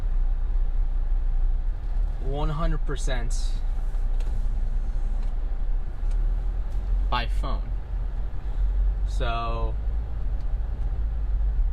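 New car on a road trip, a steady low road and engine rumble with broad cabin hiss running throughout, while a person talks intermittently over it.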